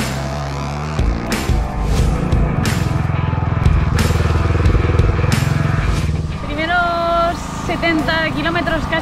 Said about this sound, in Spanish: cambia una barbaridad ir con esta moto tan grande por la arena